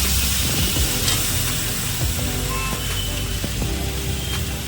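Chicken kosha sizzles and hisses steadily in a pan after a little water is poured in, a close, continuous frying noise with faint stirring clinks and no talk.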